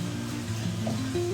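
Ghee is stirred into payasam in a pan and gives a brief, steady sizzle up close, with a faint hum underneath and no talking.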